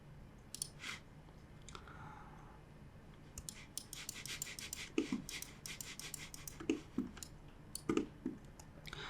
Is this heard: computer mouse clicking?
yes